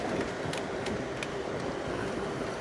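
Steady broadband rumble from inside the Amtrak City of New Orleans passenger train running on rails, with a few faint rhythmic clicks over the continuous roar and no talking.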